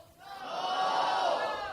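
A crowd at a statistics finale event shouts a collective answer together, a broad swelling roar of many voices that rises after a brief pause and holds loudly before easing slightly.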